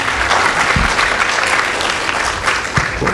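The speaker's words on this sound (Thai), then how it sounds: "ให้ทุกท่าน ปรบมือต้อนรับ" An audience applauds steadily, a dense wash of clapping that continues for a few seconds with no voices over it.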